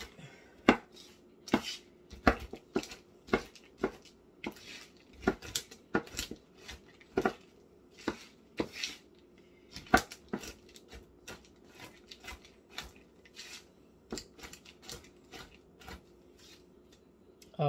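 Pecans chopped on a board with a big sharp knife, a steady run of crisp, close knocks and cuts repeating roughly every half second, heard alone at low level.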